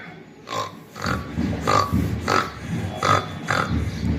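A voice imitates a pig, giving six short nasal grunts in a steady rhythm, close and fairly loud, in a classroom activity.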